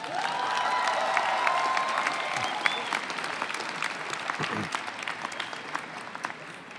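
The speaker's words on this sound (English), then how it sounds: "One more round of applause for Dr." A crowd at a College for Creative Studies commencement ceremony applauds steadily, a dense wash of clapping that fades slightly toward the end, with faint cheering mixed in.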